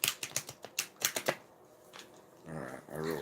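A quick flurry of crisp snapping clicks as a deck of tarot cards is riffled, followed by a brief pause and then a voice murmuring.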